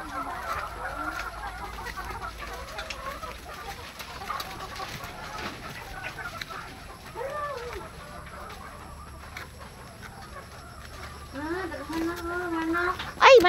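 Chickens cluck and call intermittently at moderate distance beside a poultry house while people talk over a quiet outdoor background.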